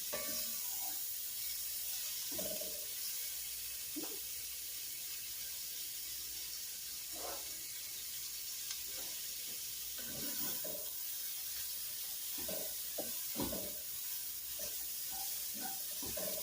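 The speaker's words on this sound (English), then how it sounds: "Kind of going to caramelize these onions." Onions frying and caramelizing in a pan for a pot roast, a steady close hiss of sizzling oil with occasional soft pops and scraping clicks of a utensil, no talk.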